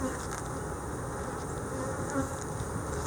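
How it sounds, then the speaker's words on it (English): Honey bees buzzing around an open hive during an inspection, a continuous dense hum of many insects close by, steady and fairly quiet, with no talk. "The bees are getting a little riled up"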